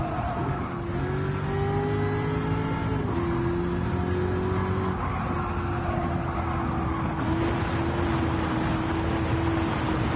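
A racing car engine in Gran Turismo 7 revs and climbs through the gears, with a sustained tonal whine shifting pitch at each change, loud and close throughout, no talking.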